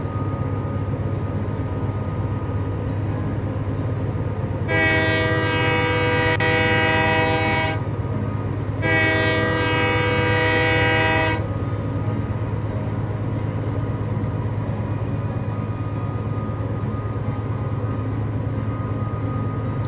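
A train in the video game Train Life rumbles steadily, broken by two long, loud horn blasts a second apart, each held for a few seconds.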